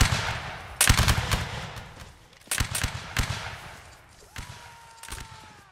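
Musket volleys ring out in a Napoleonic Wars line battle, heard as sharp cracking shots in clustered bursts separated by short pauses, some near and loud, others thinner and more distant.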